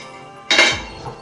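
A metal idli steamer pot is picked up and set down, giving one sudden bright clank followed by a shorter ringing rattle of metal parts, close by and clear.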